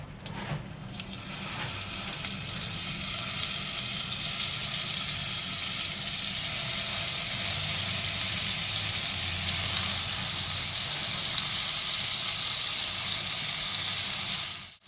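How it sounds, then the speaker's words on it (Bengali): Paneer pieces fry in white oil with a little butter in a kadai, giving a loud, continuous sizzle that starts abruptly and crackles steadily throughout. There is no talking. "এবার পনিরগুলো ভাজার জন্য কড়াইতে দিয়ে দিচ্ছি।"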